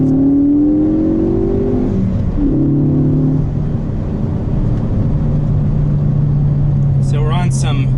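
A Ford Focus ST tuned to 360 lb-ft of torque and 252 horsepower drives along canyon roads, its engine droning and rising steadily in pitch with a brief shift, loud and close throughout, with a person talking over it.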